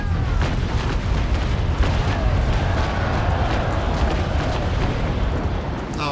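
Ship cannons booming in the naval battle game Naval Action, a dense rolling roar of heavy broadside fire that fills the whole stretch loudly with no clear gaps.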